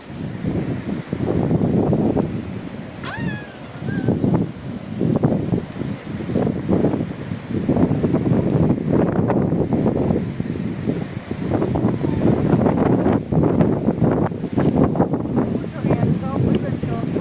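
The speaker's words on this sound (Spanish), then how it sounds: "muy ventoso." Strong gusty wind at the base of Cerro Uritorco near Capilla del Monte, Córdoba, Argentina, roaring loudly and continuously across the microphone with rustling bursts; voices can be heard under the buffeting.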